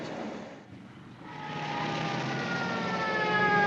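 1950-era police car sirens wail with rising tones, starting faint and swelling louder over a few seconds against a low background hum.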